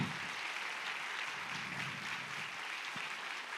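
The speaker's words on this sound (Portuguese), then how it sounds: "Eu vou pedir para que todos aqui deem uma salva de palmas para os professores" Steady wash of audience applause for teachers at an autism inclusion project event, a dense, even patter of many hands with no talk, continuing evenly throughout.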